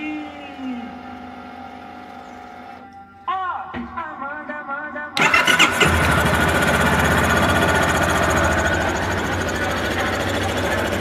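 A motorcycle fitted with a fuel controller is started after a few seconds of handling noise. It turns over with a brief cranking whir, then bursts into a loud, close, rapid mechanical idle that runs steadily.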